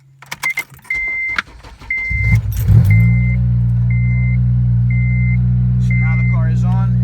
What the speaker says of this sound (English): put the clutch down. Make sure this is in neutral. It's in neutral now. And then turn on the car.